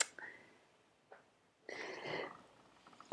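A nearby person sneezes indoors, with a soft breathy catch and a brief sniff before one louder, noisy burst and a short sniff after, all fairly quiet.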